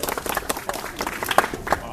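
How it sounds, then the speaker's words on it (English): Applause and clapping from a tour group at the Tower of London, a brief ragged patter of hands close by with some crowd noise mixed in. "Little round of applause for the beautiful Queen."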